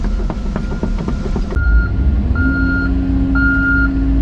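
A dump truck reverses at a golf course pond dredging site, its backup alarm giving three evenly spaced beeps over a steady engine rumble, with clanking machinery noises just before.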